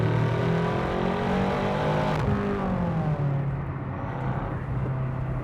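A BMW M6 Gran Coupe engine revs loudly and close up as the paddle shifter drops it from fourth through third to second, with a sharp pitch break partway as a downshift blips the revs before the engine settles.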